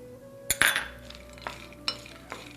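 Whole blanched almonds and pistachios sautéing in a pan, with a few sharp utensil scrapes and clinks over a faint steady sizzle, moderately quiet and close.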